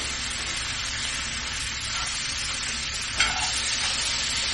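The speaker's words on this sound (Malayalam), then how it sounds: "ഇതിലോട്ട് നമ്മളുടെ വെന്ത് വെച്ചിരിക്കുന്ന ബീഫ് ചേർത്ത് കൊടുക്കാം ഇതെല്ലാം കൂടെ ഒന്ന് മിക്സ് ചെയ്യാം" Cooked beef is stirred and mixed in a frying pan of oil for a Kottayam-style Kerala beef roast, a loud, continuous close sizzle with one brief clatter of the utensil.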